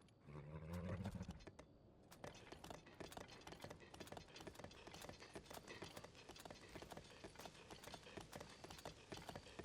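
Horse hooves clip-clopping in a steady, quick rhythm as the horse moves along in the Zelda Tears of the Kingdom video game, close and continuous with a short voice near the start.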